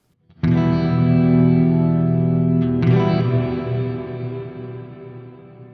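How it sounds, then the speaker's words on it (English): Chase Bliss Meris CXM 1978 reverb pedal on its high diffusion setting, a loud, sustained wash of wide, shimmering reverb tails over a held chord, with a second chord struck midway and the sound gradually decaying. "Immediately struck by how beautiful that is, how washy it is, how wide it sounds, and also the real impact of that diffusion."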